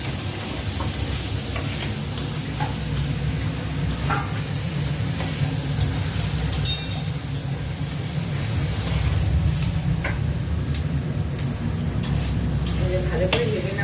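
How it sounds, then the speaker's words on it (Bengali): Potato, carrot, onion and chilli frying together in a pan for chow mein, a steady close sizzle with occasional stirring scrapes running throughout without pause. "আলু, গাজর, পেঁয়াজ, লঙ্কা ভালো করে ভেজে নিচ্ছি।"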